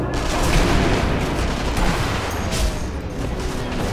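Rifle fire in the World War II shooter Sniper Elite V2, a dense, noisy barrage of overlapping shots and booms, loud and continuous with no voices.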